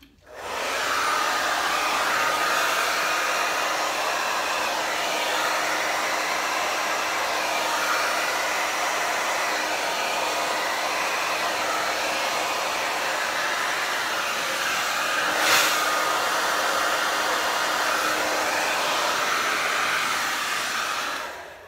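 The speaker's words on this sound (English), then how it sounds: "put your diffuser on." A hair dryer fitted with a diffuser blows steadily while drying microlocs, a loud, even whoosh running unbroken from start to finish, with only a slight change in tone partway through.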